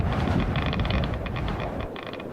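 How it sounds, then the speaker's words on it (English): Radiation ambience in Subnautica: a dense, rough crackling hiss with rapid rattling bursts over a low rumble, continuous and fairly close, like a staticky ambient drone. "that's the sound of radiation spreading."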